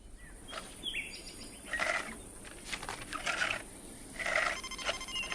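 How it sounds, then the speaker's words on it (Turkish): A mobile phone rings in a Turkish children's cartoon, with short repeated electronic ringtone bursts against a background of chirping, bird-like noises at moderate volume. "Aa, annemin telefonu çalıyor."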